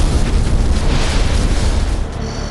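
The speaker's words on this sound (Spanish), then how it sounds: "La explosión ocurre a las 3:16 de la tarde" A loud, rumbling explosion in a DC-10 engine during flight, recreated for a crash reenactment, gives a sustained roaring blast that fades slightly over a few seconds, with no voices over it.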